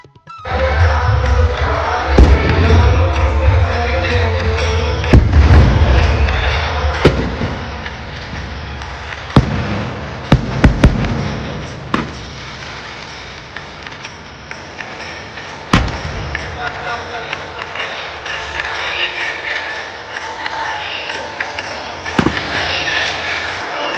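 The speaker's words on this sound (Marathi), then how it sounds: "फटाक्यांची आतिषबाजी करण्यात येत आहे" Festival fireworks burst over Alandi during a chariot procession, with repeated sharp bangs and thumps rising out of a dense, roaring crowd-and-crackle wash that fills the whole stretch.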